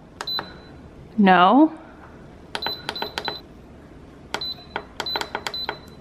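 Instant Pot control panel buttons are pressed to select the yogurt setting, giving clusters of short, sharp electronic beeps in quick bursts. Someone speaks briefly between them.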